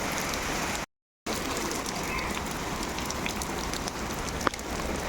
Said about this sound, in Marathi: आता बाहेर पाऊस आहे म्हणून.